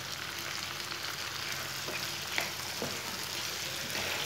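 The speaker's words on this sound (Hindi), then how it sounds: "सब्ज़ मिर्च और टमाटर को 2 मिनट तक पका लेंगे।" Finely chopped tomatoes and halved green chillies fry in a pan for a tinda curry, a soft, steady sizzle with a few light stirring taps, fairly quiet and with no talk.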